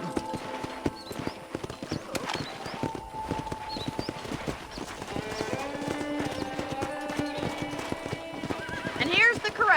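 Horses at a ranch corral in the video game Red Dead Redemption, with clip-clopping hooves and repeated neighs and whinnies, close and fairly loud, while a voice talks over them.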